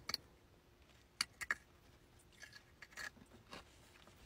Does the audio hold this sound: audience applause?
no